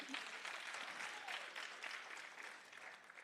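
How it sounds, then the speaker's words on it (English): Applause from a graduation audience for nursing students at a nursing ceremony, a steady wash of many hands clapping at once, fairly even and sustained throughout before tapering slightly. "Applaud them again."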